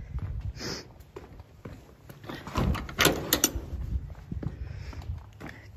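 A door on a farm building is raised open on a snowy cold feeding day, with clattering, sliding and rattling scrapes building to a louder metallic burst, then settling into scattered knocks.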